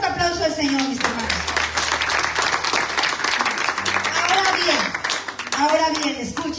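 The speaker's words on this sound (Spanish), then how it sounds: "Den un fuerte aplauso al Señor, mis hermanos." Congregation clapping in a church service, a dense sustained burst of applause filling the whole stretch, with voices and speech mixed in over it.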